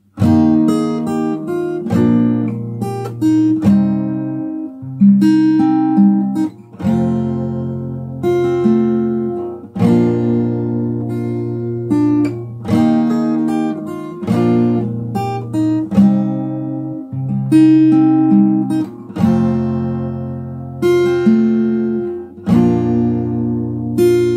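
Acoustic guitar chords ring out one after another, each strummed and left to sustain and fade before the next, played alone at a moderate, unhurried pace, the outro of a song.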